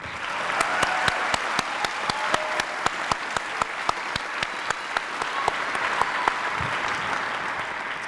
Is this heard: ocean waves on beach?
no